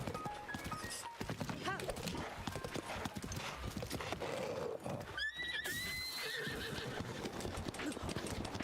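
A horse in Breath of the Wild neighs among steady clip-clop hoofbeats, with a clear whinny near the end over continuous game sound and a voice talking.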